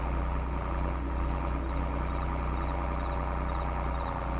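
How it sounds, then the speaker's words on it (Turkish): A tractor engine idles in the Farming Simulator 22 video game, giving a steady low mechanical drone that holds unchanged throughout, with no talking. "Benim traktörü de açık bırakmışım."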